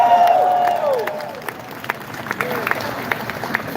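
A crowd at a reparations rally applauds and cheers, with scattered claps and shouts over a loud voice that fades as the applause continues, moderately loud.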